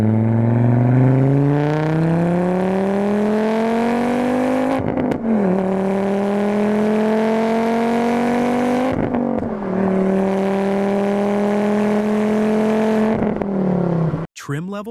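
A Volvo S60R's turbocharged five-cylinder revs loudly up close, rising in three long sweeps with brief drops between pulls and a sudden cut at the end.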